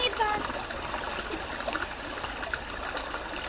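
Water from a river trickles and babbles in a continuous, fairly faint stream with small splashy bursts throughout.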